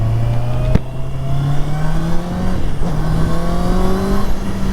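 A Honda CB650R motorcycle roadster, an inline-four with a six-speed gearbox and chain final drive, accelerates hard up through the revs. Its loud, close engine note rises steadily, briefly dips at a gear change, then climbs again.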